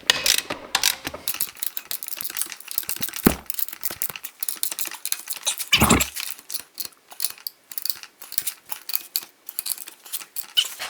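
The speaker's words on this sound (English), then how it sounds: "It's a long ratchet, so I'm gonna choke up on this ratchet a little bit" Long ratchet wrench clicking as it snugs down a bolt during final tightening, a run of quick close mechanical clicks with a couple of heavier thunks, moderately quiet and with no voice over it.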